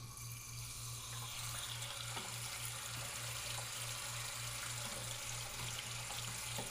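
Water draining from a Sloan toilet flush valve into a bucket, a steady close splashing rush that continues without a break, with a low rhythmic hum underneath.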